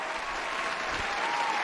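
Applause at a late-night WordHack live event, December 2020, a steady wash of clapping held at an even level for the whole stretch with no voices over it.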